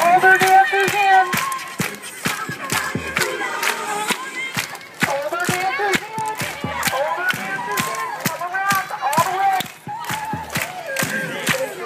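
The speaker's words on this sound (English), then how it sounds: "Keep clapping. Keep clapping." Dancers at a flash mob rehearsal clap together in a steady, rapid rhythm, a close and loud crowd of hands with scattered cheers and an instructor's voice calling out over it.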